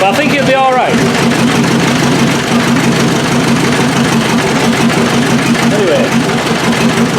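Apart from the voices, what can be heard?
2.5 NA engine running lumpy on a pallet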